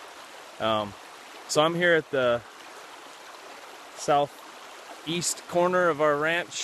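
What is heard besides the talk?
Keithley Creek flowing water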